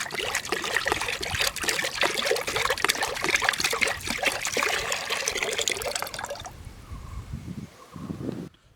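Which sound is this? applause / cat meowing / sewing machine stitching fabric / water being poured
water being poured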